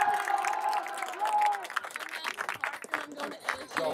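Crowd at a youth soccer senior night cheering and clapping, a sustained roar of voices and applause rising and falling over a few seconds.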